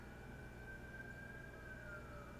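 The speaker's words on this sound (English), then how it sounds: "Wow, that is a lot of sirens though." A steady wail of many emergency sirens outside carries from a distance, overlapping tones holding over a constant low rumble with no voices.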